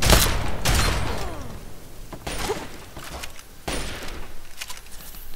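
Gunfire in the Fallout 3 video game during a mansion fight, with several loud sharp bursts spaced a second or so apart, each followed by a brief decaying tail over a steady game background.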